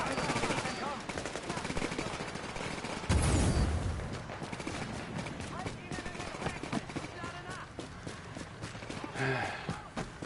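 Rapid automatic gunfire from a firefight in The Division video game, dense bursts with a loud blast near three seconds, layered under continuous game noise and voices.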